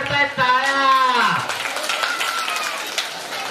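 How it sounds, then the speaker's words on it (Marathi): A crowd claps for a lucky draw prize winner at a community gathering. A voice talks at the start, then a steady wash of applause carries on to the end. "टाळ्या वाजवा"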